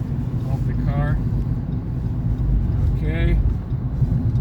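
Inside a 2015 Fiat 500e electric car, a steady road and motor rumble builds as it accelerates, with brief voice-like murmurs over it.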